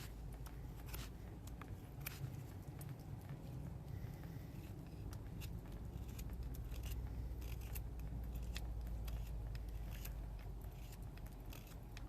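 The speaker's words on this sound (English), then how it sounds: "For not being as sharp as the other two knives, this one is cutting really well." A Beaver Craft BSH1 bushcraft knife carves wood in a steady run of rapid, scraping, crackling cuts over about twelve seconds, close and fairly even in loudness with no talking.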